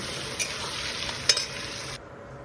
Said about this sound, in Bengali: এবার ওর মধ্যে দিয়ে দিলাম পেঁয়াজের কুচি, দিয়ে পেঁয়াজটাকে আমি লাল লাল করে একটুখানি ভেজে নিচ্ছি।